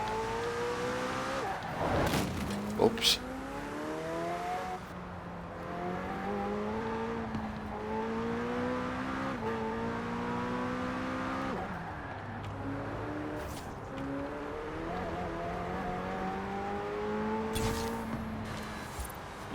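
Car engine in Forza Horizon 4, revving up and down through repeated gear shifts with rising and falling pitch, a brief clatter early on, with a voice briefly speaking over it.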